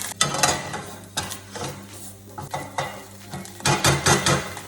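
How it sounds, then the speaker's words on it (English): Homemade Thai green curry paste hits a hot pan slicked with a few drops of sesame oil, giving bursts of sizzle along with scraping and clinks of a utensil stirring against the pan, fairly close and with no talking. "So I have my homemade Thai green paste. Toss it on the hot pan."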